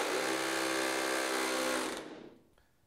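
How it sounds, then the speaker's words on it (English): A rotary hammer drills with its clutch not working, giving a loud, steady, harsh mechanical whine that cuts off abruptly near the end and leaves a short fading tail. "Now you will see the difference in the sound when the clutch isn't working."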